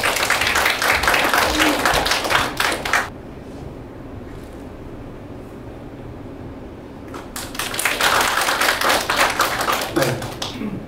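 Loud applause from the audience at the 7th Korea Gugak Awards ceremony in the Dobong-gu Community Hall's small theatre: a dense burst of clapping, then a quiet pause of a few seconds, then a second round of clapping that swells back up.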